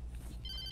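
A telephone rings in the video game Alan Wake, a short, faint ring over low background hum.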